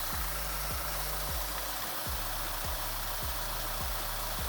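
An Audi Q5 with a faulty mechatronic unit idles with a steady low engine hum, broken by rhythmic thumps or knocks about every half second throughout.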